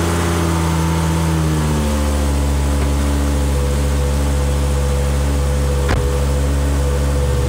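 A Volvo S60 engine runs at a steady idle after catalytic converter and muffler exhaust repair, with the car parked on blocks. The hum is loud, close and continuous, with no voices.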